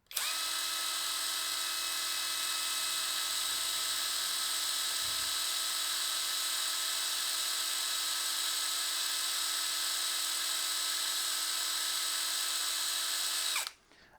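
A Raitool impact wrench runs on high speed in one unbroken burst of about thirteen seconds, a steady high-pitched motor whine at close range that cuts off abruptly.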